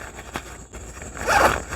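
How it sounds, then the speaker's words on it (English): The bottom zipper of a get-home or everyday-carry backpack is pulled open. Quiet handling rustles lead into a short, close, raspy zip near the end. "There's a zipper way at the bottom,"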